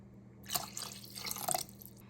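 Water pours briefly into a pan while cooking paneer capsicum gravy, a soft splashing trickle lasting about a second against a quiet background hum.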